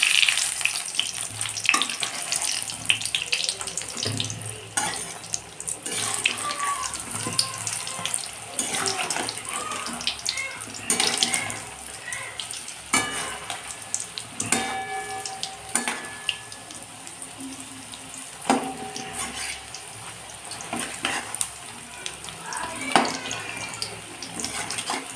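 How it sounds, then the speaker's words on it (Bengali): Onion fritters frying in oil in a wok, a steady bubbling sizzle with intermittent clicks and spatula scrapes as pieces are turned, over a long stretch with no talk. "এই যে কড়ায় তেল দিয়ে পেঁয়াজগুলোকে ছেড়ে দিয়েছি, এবার ভাজা হয়ে গেছে, আমি উল্টে নেবো।"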